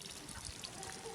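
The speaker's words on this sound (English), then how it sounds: "Trickle." Water trickling and dribbling at a waterfall, a steady close splashing wash lasting about a second with no one speaking.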